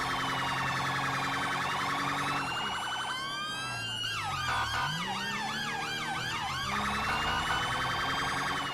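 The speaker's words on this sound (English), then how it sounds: "Just have to hope they hear sirens and see the lights reflecting." Several police sirens in the video game GTA V wail and yelp at once, overlapping sweeping tones switching patterns, loud and continuous over a low engine rumble.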